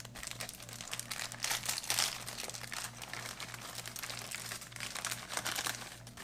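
Plastic bag of MRE orange beverage powder crinkling and crunching as it is handled, a continuous close rustle with a louder burst partway through, no talk over it.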